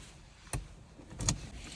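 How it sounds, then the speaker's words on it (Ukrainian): Two quick, soft mechanical clunks of a 2003 Smart City-Coupe's central locking unlocking by key fob, spaced under a second apart against a quiet background. "Нажимаємо два рази відмикнуть автомобіль"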